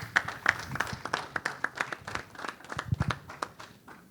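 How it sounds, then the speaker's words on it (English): People at a Daystar Christian Centre press conference applaud a co-senior pastor with scattered, uneven claps from a small group, moderate in volume, tapering off toward the end. "Please give her a round of applause."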